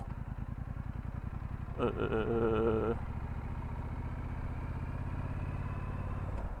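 Brixton Cromwell 1200 motorcycle engine running at low revs, a steady close rumbling thrum with a brief rougher surge, while a rider speaks over it.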